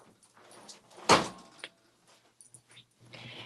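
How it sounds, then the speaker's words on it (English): A door shut firmly indoors during a quiet crafting session, giving one sharp, loud thud with a brief rattle, followed by a faint knock and light shuffling sounds. "I'm going to shut that door the rest of the way"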